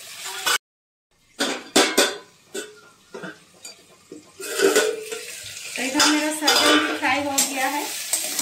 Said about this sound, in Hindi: देखिए ये फ्राई किया हुआ सहजन अभी हम निकाल लेंगे।